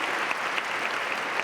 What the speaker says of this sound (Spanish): Sí, un aplauso para Julieta.